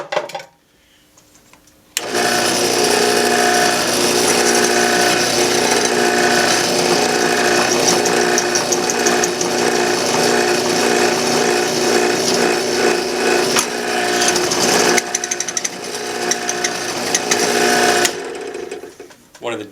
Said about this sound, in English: One of the disadvantages of drilling tubing, sometimes that you get, it hangs up on you, catches the flutes on the drill bit catch the metal.